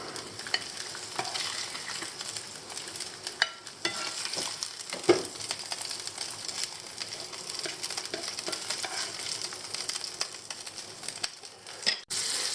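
Butter sizzles and spits in a frying pan previously used for bacon while green ormer abalone cooks, a steady close frying hiss with occasional stirring scrapes and clicks.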